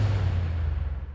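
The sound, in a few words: impact sound effects on the transition and drop ending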